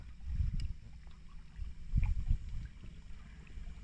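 A 12V 45 lb trolling motor runs unevenly on an Intex Mariner boat at low power, a close low rumbling churn that surges and fades with the rough-running motor, along with water and wind noise.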